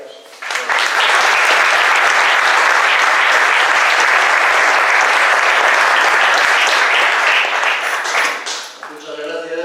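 Audience applause fills a lecture hall after a speaker is introduced, a dense, steady wash of clapping that holds loud for about eight seconds before thinning out as a voice begins.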